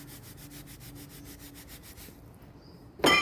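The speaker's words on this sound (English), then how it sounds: "Here I'm charging the ebonite rod, rubbing with wool" Wool rubbed briskly along an ebonite rod, a steady soft rhythmic scraping of about a dozen strokes, close and fairly quiet, ending in a brief louder clatter.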